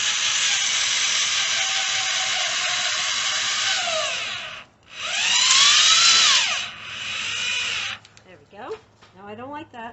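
A power drill drives a screw into a wooden chicken coop fitted for rain catchment, whining in close, loud bursts that rise and fall in pitch with brief pauses, followed by a short stretch of talking.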